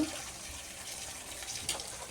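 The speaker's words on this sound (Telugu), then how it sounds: "మనం డ్రైన్ చేసేయాలి వాటర్." Water draining off basmati rice boiled to about seventy percent, a faint, steady wash of pouring liquid with a brief splash near the end.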